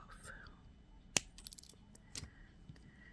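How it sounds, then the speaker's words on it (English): Clippers snip through a metal eye pin while making doll-sized bird jewelry: one sharp, close click, followed by a few faint, light ticks of handling in an otherwise quiet room. "And then we're going to get our clippers, and where these two meet the eye pin right here,"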